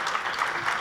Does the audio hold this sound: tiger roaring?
no